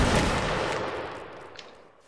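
A volley of musket fire in a Napoleonic Wars line battle game, a loud crackling burst that fades away over about two seconds with no talk over it.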